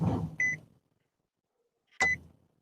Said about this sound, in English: I hear beeping.